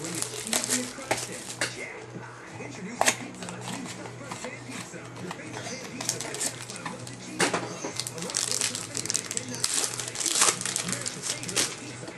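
A 2008 Bowman Sterling baseball card pack crinkles and tears open up close, followed by ongoing rustling and shuffling of foil and cards as a voice speaks over the handling.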